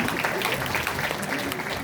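Audience applause fills a hall at a Korean legislator's 2024 constituency report meeting, dense steady clapping from many hands throughout.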